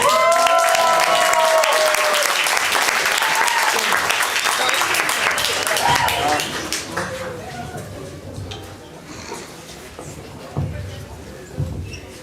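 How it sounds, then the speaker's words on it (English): A conference audience at an opening ceremony claps for a group of dancers, with strong, dense applause at first that fades after about six seconds to scattered claps, shuffling and murmur. "So please give them a big applause."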